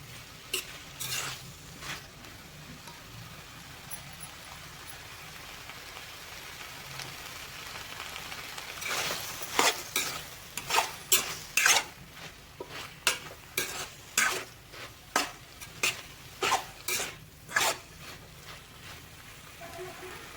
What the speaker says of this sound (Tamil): இஞ்சி பூண்டு பேஸ்ட் போட்டு ஒரு 2 நிமிஷம் நல்லா வணக்கலாம்